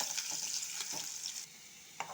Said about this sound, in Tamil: போட்டு நல்லா வதக்கிப்போம்.